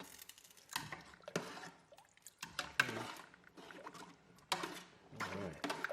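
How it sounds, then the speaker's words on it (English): Red beans and water being stirred in a pot for smoked red beans and rice, with wet sloshing, dripping and scraping in several bursts close by, separated by short quiet gaps. "give it a little stir"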